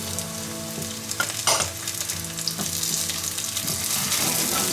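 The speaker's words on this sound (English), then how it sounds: "So we're now going to add the garlic." Garlic frying in a hot pan for Hong Kong style sweet and sour chicken, with a steady close sizzle broken by a few scraping stir strokes and no talking.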